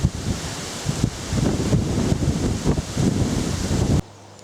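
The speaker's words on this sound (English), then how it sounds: "the wind gusts a little" Wind rushes across the microphone in buffeting gusts beside a wood on a countryside walk near Old Warden, a steady roaring rumble that swells and dips for about four seconds before abruptly dropping away.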